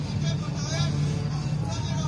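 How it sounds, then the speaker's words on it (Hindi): Armoured vehicles rumble out of a narrow lane toward the Jallianwala Bagh garden, a low, steady engine drone that continues under a narrator's voice. "कुछ बख्तरबंद गाड़ियां गली के बाहर आ रही थी।"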